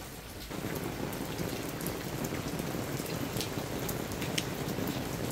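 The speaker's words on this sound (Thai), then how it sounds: "วันนี้ฝนก็น่าจะตกทั้งวันนะคะ" Heavy rain pours steadily on a muddy rural road, a dense hiss with scattered close drips and splashes popping out of it, continuous and with no voices.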